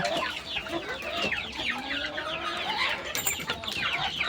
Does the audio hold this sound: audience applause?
no